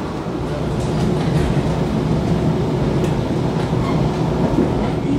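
A panoramic passenger train with full-glass carriages running on rails in Indonesia near the Cisomang bridge, heard from inside as a steady low rumble with faint rhythmic wheel clatter and no talk.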